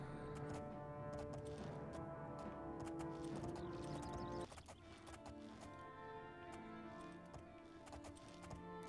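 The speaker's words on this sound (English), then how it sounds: "Can't you see I'm riding a horse vertically on a mountain?" Horse hooves clip-clop at a steady gallop while riding in the fantasy video game Oblivion, set over constant game music with a brief shift partway through.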